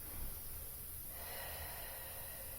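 A single long exhale during a guided upper-back exercise on a mat, steady and close, with no talking over it.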